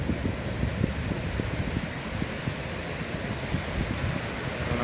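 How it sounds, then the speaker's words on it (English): Strong wind buffeting the microphone in a continuous roaring rumble, with gusty low thumps and no voices. "I don't know if you can tell how windy it is, but it's windy all day long."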